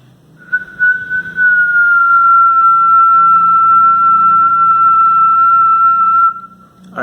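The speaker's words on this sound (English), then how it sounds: "I'm going to blow a whistle and I'm going to determine my own whistle's frequency" One person's whistle holds a single steady tone around 1000 Hz for about six seconds, clear and loud, with faint room noise before and after.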